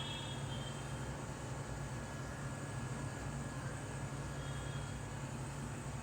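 A Samsung air conditioner outdoor unit (AR18AY5YATZ) runs at night, heard from a step away as a quiet, steady broadband whir with a low hum, continuous and unchanging.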